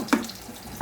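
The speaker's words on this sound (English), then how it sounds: "I'm going to be adding water to cook this lentils." Water is poured into a pot of lentils for cooking, the heat still off, giving a soft, steady splashing and trickling with a brief sharper splash near the start.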